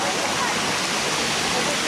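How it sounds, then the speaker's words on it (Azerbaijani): A waterfall in Qabala, Azerbaijan roars steadily as an even, broadband rush of falling water, close and constant. "bu da 7 gözəl şəlaləsi"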